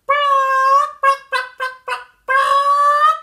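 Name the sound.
voice imitating chickens clucking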